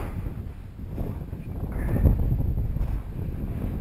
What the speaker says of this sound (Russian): И ветер опять начинается.